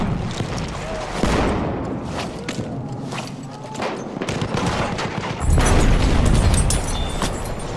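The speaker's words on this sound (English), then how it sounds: "Machine gun, hostile!" Rapid machine gun fire in the World War I shooter Battlefield 1, loud and continuous with booming impacts, while voices call out under the gunfire.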